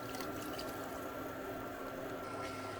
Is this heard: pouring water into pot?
yes